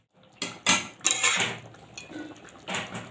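A metal lid clatters onto a pot of simmering chicken curry, a few close clanks and scrapes of metal on metal in quick succession, then a final settling knock.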